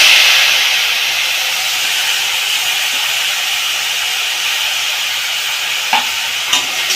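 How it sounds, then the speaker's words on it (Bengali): Jute leaves coated in salt and turmeric fry hard in hot oil with dried red chilies, making a loud, close, unbroken sizzle. A few scraping stirs sound near the end. "নাড়াচাড়া করে পাট পাতাগুলো এইভাবে ভেজে নিয়েছি"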